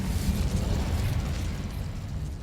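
Incendio fire spell cast in the video game Hogwarts Legacy, a loud, steady roaring blast of flame with heavy low rumble that holds for a couple of seconds without fading, no voices over it.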